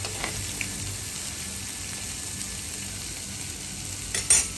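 Crushed garlic, ginger, green chilli and shallots fry in oil for a Kerala fish curry, a steady close sizzle with faint stirring scrapes and a small clatter near the end.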